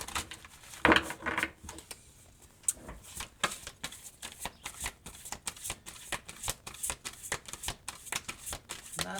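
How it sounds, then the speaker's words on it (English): Tarot cards are shuffled by hand close up, giving a quiet run of quick papery slaps and flutters in an uneven but steady rhythm. "I shuffle."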